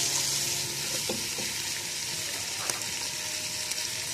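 Twisted elbow macaroni stirred in a frying pan, a steady bright sizzle throughout with a few soft scraping knocks from the stirring, close and moderately loud, with no voices.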